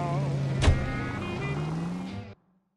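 Car driving in the 1940s Los Angeles setting of the L.A. Noire video game, with a steady engine drone and a sharp thud early on, ending abruptly.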